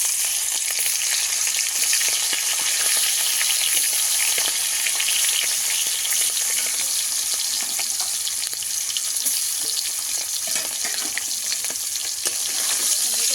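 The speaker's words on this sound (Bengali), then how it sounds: "দিয়ে দেবো কালো জিরে, একটা শুকনো লঙ্কা, ইলিশ মাছগুলো" Hilsa fish frying in hot oil with nigella seeds and a dry red chilli, a loud, dense and unbroken sizzle with crackling spatters that holds steady throughout, with no voices.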